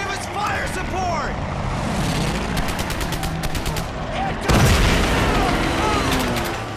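Bursts of rapid machine-gun fire and single shots crackle through a World War II battle in Medal of Honor Pacific Assault, with a heavy boom midway, shouting voices and battlefield din mixed throughout.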